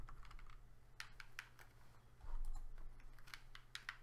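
Fast typing on a computer keyboard, a steady patter of key clicks with a few sharper strikes, heard alone at fairly low level over a low constant hum.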